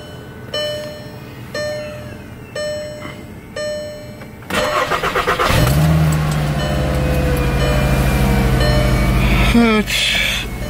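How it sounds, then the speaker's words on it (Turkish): A car engine cranks with a rapid stutter, catches and settles into a steady close idle that runs on, after several short repeated beeps earlier; no one talks over it. "Şöyle arabayı da çalıştıralım."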